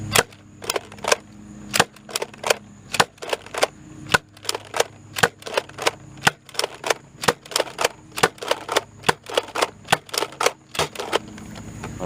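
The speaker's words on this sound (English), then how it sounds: "fire the Little Valentines, then fire the genuine AccuStrikes" A Nerf blaster firing Little Valentine darts and then AccuStrike darts, a long series of sharp, close pops in a steady rhythm roughly every half second, with no talk.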